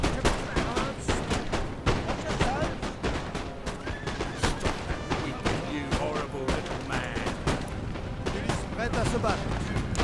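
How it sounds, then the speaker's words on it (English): Massed musket volleys crackle continuously across a hilltop battle in Napoleon Total War, dense overlapping shots and impacts striking Highlander infantry, with a commentator talking over the din. "See these Highlanders getting hit by random bullets."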